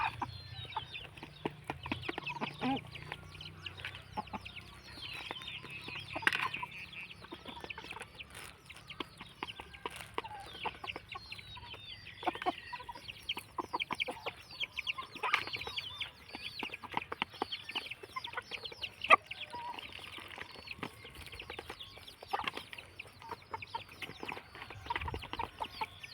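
Chickens cluck on and off for a long stretch, short scattered calls from several birds, mostly soft with an occasional louder squawk.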